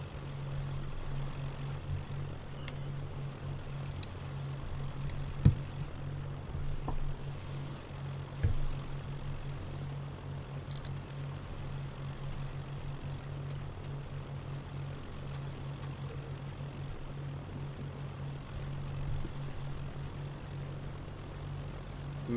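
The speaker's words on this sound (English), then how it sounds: "Manual prop cranking." Propeller aircraft engine turns over under manual cranking in the IL-2 flight sim game, a steady low droning hum that holds evenly throughout with a few faint clicks, quiet and unchanging.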